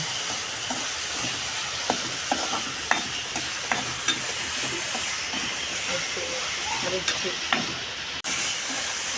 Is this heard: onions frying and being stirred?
yes